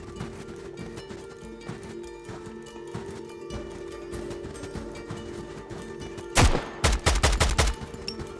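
Gunfire in the video game Road to Vostok, starting with a single loud shot and followed by a rapid burst of several sharp reports, heard above a steady ambient game hum.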